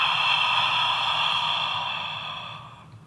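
A long, steady exhale through the mouth during an ujjayi yoga breathing exercise: a close, airy sigh that holds for about two and a half seconds, then fades out.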